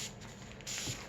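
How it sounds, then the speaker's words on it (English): A can of adhesive remover spray releases a soft hiss, a quieter puff followed by a stronger, longer burst near the end, close and faint. "So I use adhesive remover spray first."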